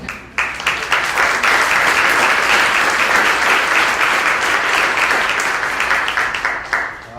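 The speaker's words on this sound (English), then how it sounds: "Ma, can you just stand up and get a round of applause?" An audience at a public health event applauds warmly for a guest's mother-in-law, a loud, sustained wash of clapping from a large crowd lasting several seconds.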